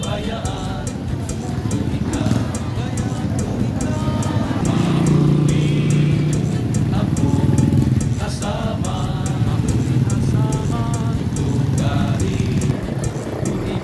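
Busy town road traffic in Oras, Eastern Samar, with cars and motorcycles steadily rumbling and passing close by, a continuous mid-level din of engines throughout.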